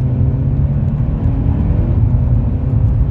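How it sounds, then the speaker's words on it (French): A Seat Ibiza 1.4 TSI FR with a stage 1 E85 remap and DSG7 gearbox rumbles close and loud as it is driven out, its engine holding a steady low drone throughout. "Là, je sors la voiture."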